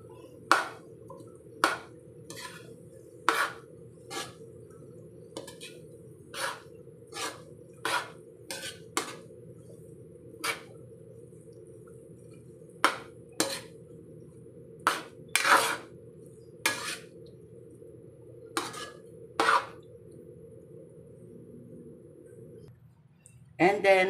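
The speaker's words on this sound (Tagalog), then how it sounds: "haluin natin muli" A utensil scrapes and taps against a cooking pan as food is stirred, about two dozen sharp metallic clinks in an uneven rhythm over a low steady hum of cooking.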